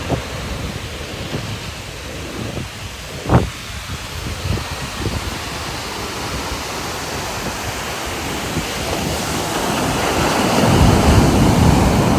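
Ocean surf rolls onto the beach at Vizag in a steady, loud wash of noise. The waves swell stronger near the end, with no one speaking.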